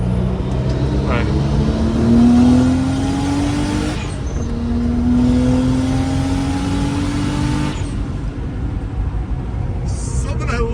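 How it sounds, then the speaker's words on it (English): Nissan R32 Skyline GT-R with an HKS exhaust and HKS blow-off valve idles and revs with a steady, moderately loud engine drone and rising pitch sweeps, heard close up under a man's conversation. "So it's got a HKS exhaust with an HKS blow-off valve."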